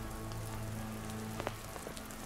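Rain falling on an ant nest outdoors, a soft steady patter with a few louder individual drops, faint and without voices.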